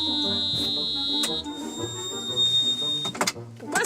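An alarm in a tractor cockpit sounds right after starting: a steady high-pitched electronic tone for over a second, then a thinner tone continues over engine rumble and rattling cab noises, close and fairly loud.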